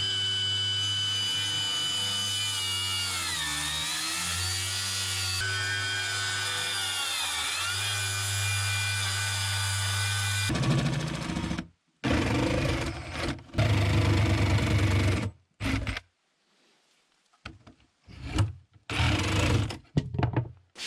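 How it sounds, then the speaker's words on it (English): Circular saw and reciprocating saw cutting wood panels for a dog kennel box: a long steady whining saw run with rising and falling pitch, then choppy bursts of sawing separated by short silences, loud and close. "I used a circular saw to cut the long ends and a sawzall to get out the corners."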